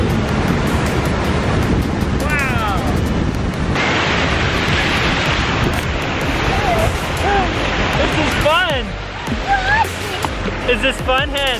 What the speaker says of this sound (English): It's fun to kick in the fountain, see?